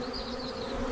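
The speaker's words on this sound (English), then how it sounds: "an angry cloud of bees engulfs the raider" A dense, angry swarm of bees buzzes steadily around a honey badger tearing into their wax-comb hive; the hum is continuous and close, with no voices.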